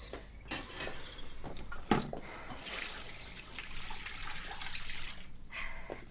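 Faint trickling and splashing of clean hot water as a dishcloth is scalded in a farmhouse kitchen, with a brief louder slosh near the middle; no talk.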